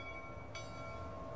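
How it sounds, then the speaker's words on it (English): Train departing from Platform 3 at a station, a steady low rail rumble with a brief horn or whistle burst partway through, heard from the platform at moderate distance. "That's my train!"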